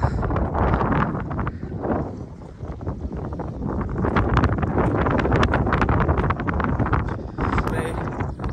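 Strong wind on a hilltop at the Kanyam tea garden in Ilam, Nepal, buffets the microphone in loud, continuous gusts, roaring close with some rustling underneath.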